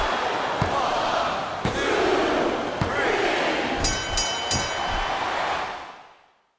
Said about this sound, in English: This capacity crowd is making their opinions known tonight.